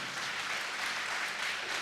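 Audience at a farmers' gathering claps together, a dense, steady wash of applause filling the whole short moment at moderate distance.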